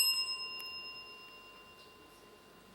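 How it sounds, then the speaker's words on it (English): Time bell at a junior school quiz competition, a single bright ring that decays slowly into a quiet room. "I believe you gave an answer before the bell."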